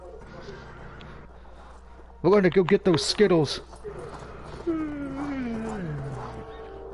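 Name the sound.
horse neighing and hooves in video game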